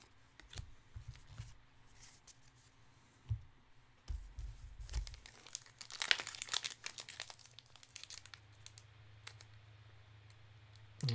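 A trading card booster foil pack is torn open by hand, giving scattered crinkling and tearing bursts with a few clicks, busiest in the middle, then quieter rustling afterward, close and soft, with no talking.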